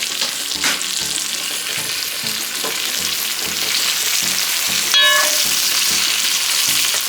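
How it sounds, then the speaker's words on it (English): Onion, scallion, ginger and garlic sizzle steadily in a hot pot, a continuous crackling fry with occasional soft scraping stirs and a brief metallic clink. "I will let this saute a little bit"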